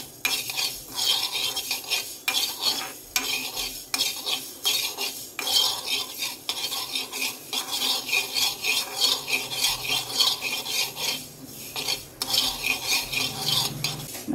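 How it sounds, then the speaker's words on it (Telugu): About two spoons of fenugreek seeds roasting in a pan while a spoon stirs and scrapes, a continuous close scratching rattle with rhythmic metallic scrapes and brief pauses throughout. "ఇగో 2 స్పూన్ల మెంతులు వేయించుతున్నా"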